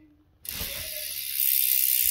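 Rant Party On v2 BMX rear wheel with a freecoaster hub spinning, a dense, rapid, loud buzzing click that starts abruptly and continues steadily at close range.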